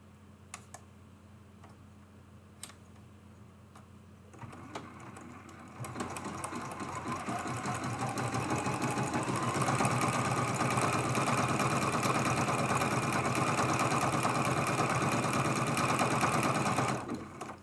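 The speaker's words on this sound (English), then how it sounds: "And I'm just going to do a little satin stitch." Sewing machine running a satin stitch on fabric backed with tearaway stabilizer, starting with a few clicks and then humming in a fast, steady mechanical rattle for many seconds before stopping.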